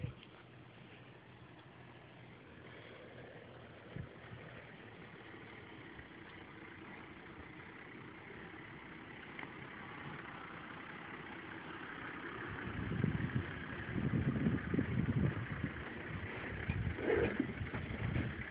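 A vehicle's engine idles steadily on a steep hill, low and rumbling at moderate volume, swelling louder and rougher toward the end as revs rise.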